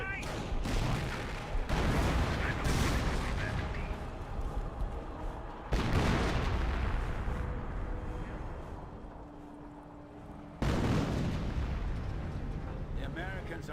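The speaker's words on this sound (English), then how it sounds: "Stick grenades been thrown." Stick grenade explosions in the Company of Heroes real-time strategy game, three heavy booming blasts spaced several seconds apart, each followed by a rumbling tail of battle noise and distant gunfire.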